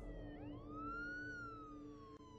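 A police car siren wails in a rising then slowly falling sweep, loud and steady over a low rumbling background, with no voices.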